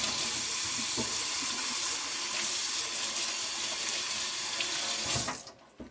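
Water runs steadily from a kitchen faucet into a sink while hands are washed during cooking, a continuous loud splashing rush that cuts off abruptly near the end.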